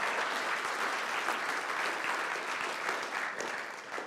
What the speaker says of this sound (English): Can we give a round of applause to all of our candidates?